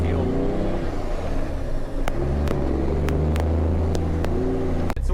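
Truck towing a trailer pulling away from a lot after refuelling, its engine a loud, close, low rumble that builds steadily, with occasional clicks and knocks over it.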